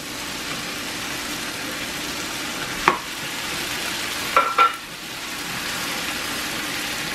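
Fatty canned corned beef frying and melting in a pan, a continuous even sizzle with a few sharp clinks of a utensil against the pan, heard alone without talk.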